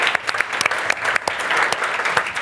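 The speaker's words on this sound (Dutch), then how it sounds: "Mag ik een heel hartelijk applaus voor Emma van der Leest?" Warm audience applause at a Dutch tech-and-nature event as a guest from an art academy is welcomed, dense, steady clapping from a nearby crowd throughout.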